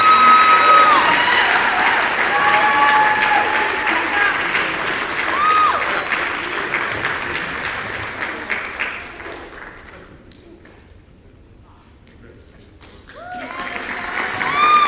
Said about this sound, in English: So put your hands together.